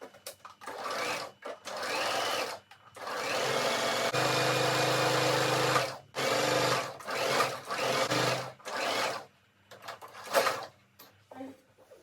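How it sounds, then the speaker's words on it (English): Bursts of a sewing machine stitching satin-lined fabric for a rose turban, running in sustained whirring runs of a second or more, broken by short pauses and quick stops near the end. "I'm going to take it to my sewing machine and stitch all the way from here down to this side"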